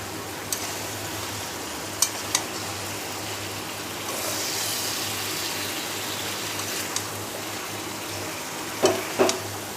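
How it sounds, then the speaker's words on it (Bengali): Water poured into chicken and masala in a pan gives a brief rushing hiss midway, surrounded by a low, steady simmering sizzle and a few sharp clinks of stirring. "অল্প একটু জল দিয়ে মশলাটা ভালো করে মিশিয়ে নিই মাংসের সাথে।"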